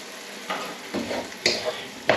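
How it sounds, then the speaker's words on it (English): A spoon stirs a simmering potato and cauliflower aloo gobi curry in a pan, giving a few soft scraping strokes with a low bubbling sizzle underneath, quiet and close. "A bit of a stir, just try the potatoes"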